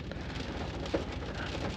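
Steady rain falling outdoors in the evening at a fishing spot ahead of a dust storm, a dense broadband patter with no voices, constant and fairly close throughout.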